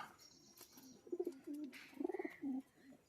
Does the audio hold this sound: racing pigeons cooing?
yes